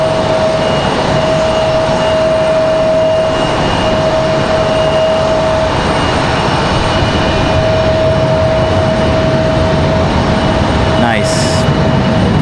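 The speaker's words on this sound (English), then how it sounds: "Here comes JetBlue from Boston" A JetBlue jet airliner arriving from Boston at Raleigh-Durham airport gives a steady loud engine roar with a sustained whine through the whole stretch, and a brief sharp noise near the end.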